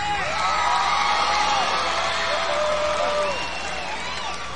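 Concert crowd at a show at the Kansas City Armory, a broad wash of cheering, whoops and yells that stays loud and steady before easing slightly toward the end.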